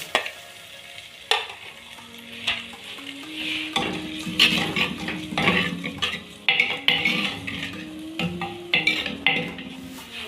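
Onions roasting in hot oil and butter in a pan for a restaurant-style mixed vegetable makhni, with a spoon scraping and stirring steadily over a constant sizzle and metal clinks, and nobody talking.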